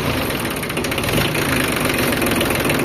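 A Kubota or Yanmar tractor engine idles with a loud, steady, even chug that fills the whole stretch close by, with no talking over it.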